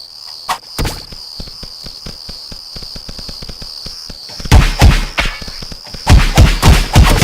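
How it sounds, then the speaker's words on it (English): Bombs exploding during combat in the video game Cube World. Rapid ticking clicks come first, then bursts of loud, punchy thuds in clusters near the end. "I'm going to use my bombs"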